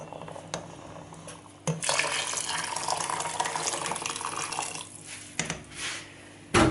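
Water pours into a cooking pot of beef for a couple seconds in a steady broad rush, tapering and stopping, then a brief second splash; close up with light kitchen clatter around it.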